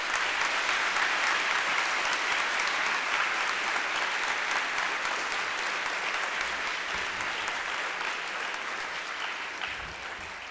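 An audience at a high school veterans ceremony gives a sustained round of applause, loud and dense, tapering gently toward the end with no voices over it.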